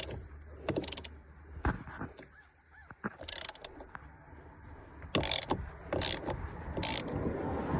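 A ratchet turns a T50 bit on the steering column housing of a 2011-2013 Ford F150, with bursts of quick clicking separated by pauses and some clanks, close and fairly loud.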